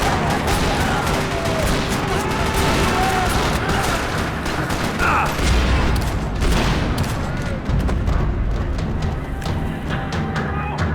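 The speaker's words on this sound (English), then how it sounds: "Another parking lot rattling with gunfire." Rapid volleys of gunfire rattle continuously in a parking lot in the video game Max Payne 3, with occasional heavier booms and thuds over a dense, loud background.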